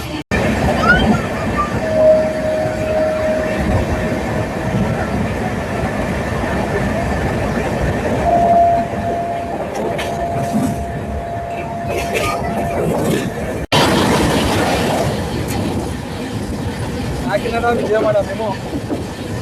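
Inside a Ratnachal Express LHB coach running near 130 km/h, a loud continuous rumble of wheels and rails with rhythmic clatter and faint squeals, while people talk over it.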